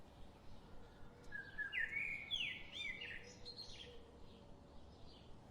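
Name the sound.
birds chirping in video game Split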